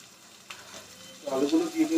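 Potatoes dropped into a pan of shallow-fried onions for a Bengali mutton kosha, a soft clatter followed by a loud, rising sizzle and crackling fry that swells near the end.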